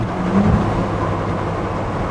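A 2023 Ford Bronco Raptor engine accelerating, heard from the cabin with a window open and the air conditioning off: a loud, steady low rumble with a brief swell in the first half, no talking.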